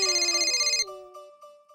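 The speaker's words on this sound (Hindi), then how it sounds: "ये उन्हीं का फोन है।" A telephone ringtone plays a bright, repeating melodic pattern, loud and close, cutting off partway and leaving a faint tonal tail and low hum.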